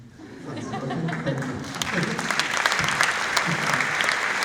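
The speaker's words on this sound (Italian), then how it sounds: "We don't need to applause after every answer." An audience at a talk bursts into applause that builds quickly and then holds as steady, dense clapping, with brief talk near the start before the clapping swells.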